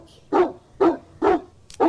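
A dog barks four times in a steady, evenly spaced rhythm, close and loud, each bark sharp and short.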